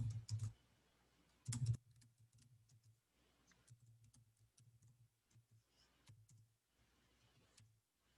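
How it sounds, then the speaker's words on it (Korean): Soft, close clicking of a computer keyboard as a business address is typed, in irregular bursts of keystrokes with a few louder clacks at the start. "우편번호는 생략하시고 사업장 주소를 직접 타이핑하겠습니다."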